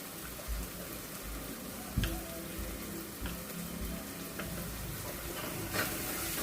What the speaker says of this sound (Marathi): मसाला पण छान परतवून घेऊया.